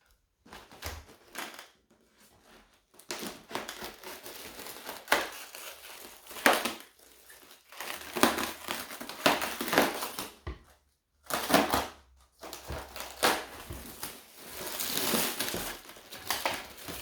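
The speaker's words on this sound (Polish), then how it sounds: "Teraz nożyczkami zetnę." Crisp crinkling and crackling of plastic stretch wrap being cut with scissors and pulled, in irregular bursts with short pauses, close by and moderately loud.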